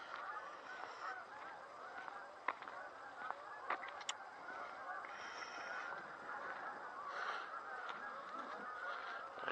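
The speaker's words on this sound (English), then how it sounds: "I hear the geese over there." A flock of geese honking continuously in the distance, a soft chorus of overlapping calls outdoors beside a steam locomotive display, faint and steady throughout.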